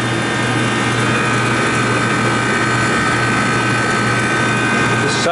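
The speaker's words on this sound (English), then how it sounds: "Now, you can hear the compressor change or the sound already." A freezer compressor drones loudly and continuously after its expansion valve is adjusted, a steady, unbroken mechanical roar with a low hum running throughout.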